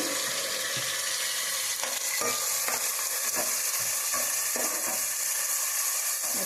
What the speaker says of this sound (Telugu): ఉల్లిపాయలు పచ్చిమిరపకాయలు అయితే వేయించేసుకోవాలి